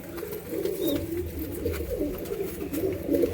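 Giribaz and Lakka pigeons at a bird sale coo in low, rolling, repeated calls that overlap steadily across the whole stretch, fairly close and unbroken by talk.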